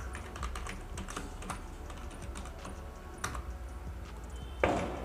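A password is typed on a computer keyboard: a run of quick, light key taps in an uneven rhythm, close and fairly quiet, ending with a slightly louder keystroke.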